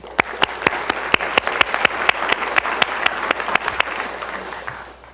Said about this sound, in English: So I'd really like to give Kathleen a round of applause.